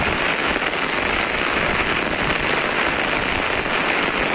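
Heavy rain pours down in Hyderabad, a dense, steady roar of water striking the ground with no pauses, close and loud throughout, and no voices.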